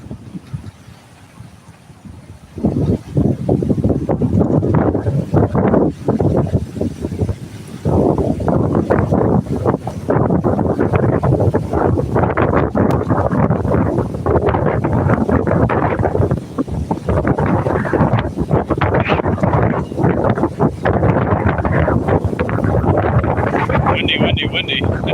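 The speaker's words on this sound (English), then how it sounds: "I'm not kidding when I say it's quite windy out here" Strong outdoor wind buffets the microphone in loud, roaring gusts that swell and ease across about twenty-five seconds after a quiet start.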